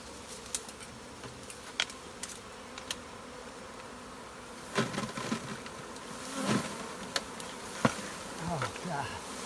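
A swarm of honey bees hums in a dense, steady drone on a rainy day, with scattered sharp clicks and a few louder buzzing passes close by toward the end.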